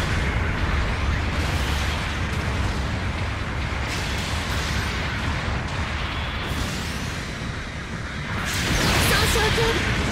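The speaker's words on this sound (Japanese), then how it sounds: "支援砲撃に効果あり。" A support artillery bombardment in the video game Gundam Battle Operation 2, in a ruined city, makes a dense, continuous roar of explosions that swells near the end, with a voice talking over it.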